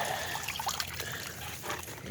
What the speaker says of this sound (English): let the water drain off